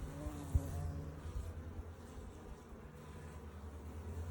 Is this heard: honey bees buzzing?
yes